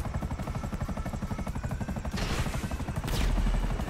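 Steady low rotor thrum of a helicopter in GTA V, with rhythmic chopping, rising into louder bursts of noise toward the end.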